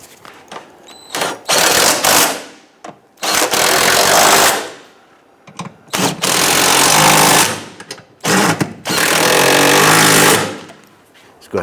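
Loud bursts of a power tool rattling as it tightens transmission mount bolts on a 2011-2021 Jeep Grand Cherokee 3.6L V6, several bursts of a second or more separated by short quiet gaps, close up.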